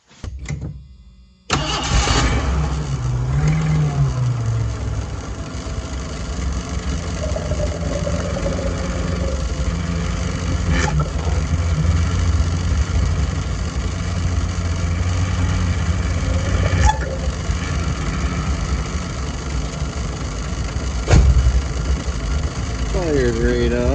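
A cold-blooded Mercury Zephyr with a faulty choke cranks briefly, fires and settles into a steady, loud idle that runs throughout, with a few faint clicks and knocks over the engine.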